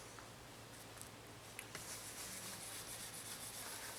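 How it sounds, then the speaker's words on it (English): Polish being rubbed in circular motions onto an oxidized, cloudy headlight lens: a steady close-up scrubbing hiss that grows a bit fuller and brighter partway through, with no talking. "Go around in a circular motion, rubbing it in."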